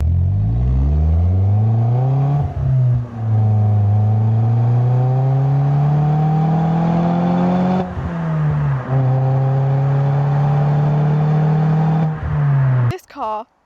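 A Renault Twingo RS 133 with a 1.6-litre naturally aspirated engine revs hard, its pitch climbing and dropping through repeated rises, loud and close, with a brief clatter at the end.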